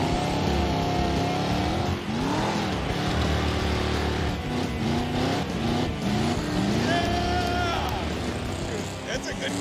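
A car engine accelerates and shifts up through the gears on a road, its rising and falling revs droning loudly and steadily under ongoing background noise.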